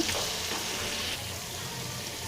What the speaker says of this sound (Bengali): আদা বাটা এটাকে আমি ভালোভাবে কষিয়ে নেব